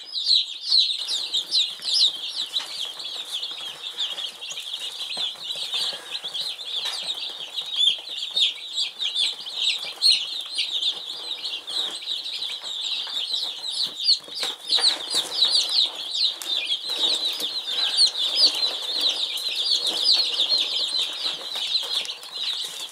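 A rambunctious bunch of baby chicks on a farm in spring, a dense, constant chorus of high-pitched peeping and cheeping close by, with occasional wing flutters and scuffling, no voices.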